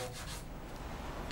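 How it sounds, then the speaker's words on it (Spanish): Sandpaper rubs rhythmically over the wooden sides of a handmade classical guitar in a luthier's workshop, a faint close scratchy swish with a few strokes, no talk. "la madera necesita pasar por una fase de lijado en el que el guitarrero va puliendo la superficie"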